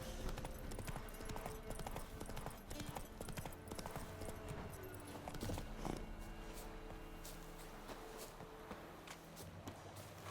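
Horse Roach's hooves clip-clop in a steady walking rhythm in the video game Witcher 3, close and moderately loud over a dense game soundscape, with no talk over them.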